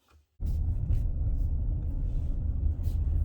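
A Dodge Charger with an ABS fault sets off on a test drive, a deep steady engine and road rumble rising suddenly after a brief quiet start and continuing evenly from inside the cabin.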